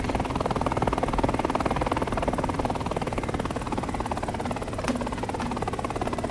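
A steady, continuous rotor and turbine drone from an SA 313B Alouette II helicopter hovering in War Thunder, loud and unbroken, with a faint click near the end.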